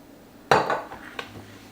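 Food dropped into an air fryer basket, a sharp metallic clatter with a brief rattle, followed about half a second later by a second lighter knock, close and moderately loud in a quiet kitchen.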